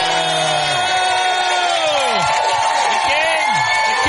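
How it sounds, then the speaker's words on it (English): A studio audience at a comedy show cheers, whoops and shouts loudly for the guest, comedian Dave Attell, as a dense continuous roar of many voices with rising and falling yells. "Clap it up."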